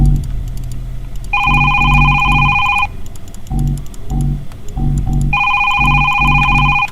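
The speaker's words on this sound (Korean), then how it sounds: "전화 받지 마요 전화 받으면 안돼" A telephone in a horror game rings in loud, repeated electronic bursts, each lasting about a second and a half, separated by short low rumbling pauses, with no one speaking over it.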